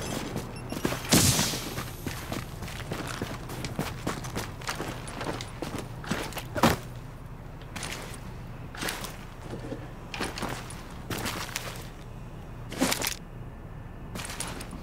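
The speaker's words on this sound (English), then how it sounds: "Let's just go with the sniper rifle first" Sniper rifle fire in the video game The Division, a series of sharp, widely spaced single shots over a low steady background hum, with scattered clanks and impacts between them.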